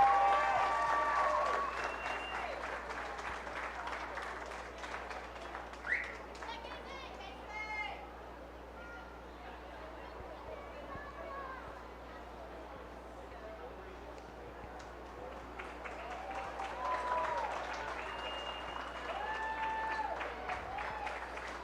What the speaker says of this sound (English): Let's give them one more round of applause as they follow Miss Jen out of the show ring.